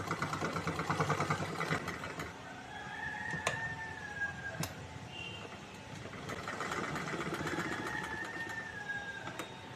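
Domestic sewing machine stitching elastic onto the hem of a churidar bottom, a steady mechanical whir with short runs and brief pauses between bursts of stitching, close and moderately loud.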